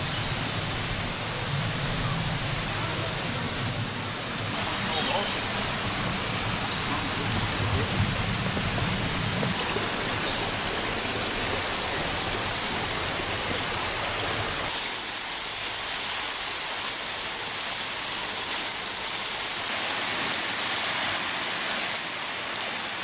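Water pours steadily from the aqueduct in Stand Wood on the Chatsworth estate, a broad continuous rush under birdsong, with a brief voice early on and the flow growing louder and fuller toward the end.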